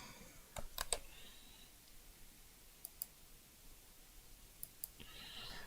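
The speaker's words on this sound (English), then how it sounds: "You can hear me getting used to this new keyboard I've got here." Soft, sparse keyboard clicks in short bursts with pauses between, faint and close, against a quiet room hiss.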